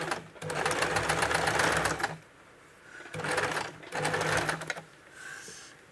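Sewing machine stitching gota lace trim onto a blouse sleeve, running in two close, steady bursts of rapid rhythmic whirring with brief pauses between them, no talk over the machine.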